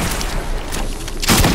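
Hand cannon fire in a Fortnite-style zone wars match: loud, close game-weapon blasts over a busy background, with one sharp, heavy report bursting out near the end.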